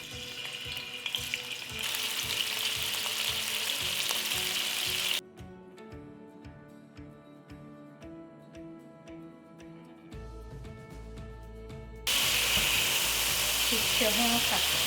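Toolo beef frying in coconut oil in a pan: loud continuous sizzling that cuts out abruptly midway to quieter ticking and soft background sounds, then returns at full strength near the end.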